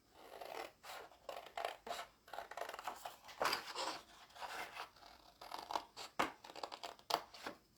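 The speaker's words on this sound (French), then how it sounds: "je prends les ciseaux pour aujourd'hui" Repeated snips of scissors cutting paper strips for a beginner's scrapbook mini album, close and crisp, irregular bursts of cutting with brief pauses between, no talking.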